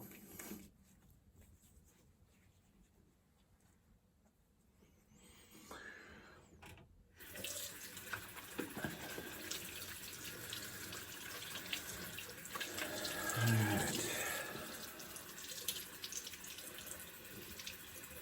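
A tap runs steadily while a shaving brush is rinsed at a sink, a continuous close hiss of water that swells after a brief pause and carries on alone without talk.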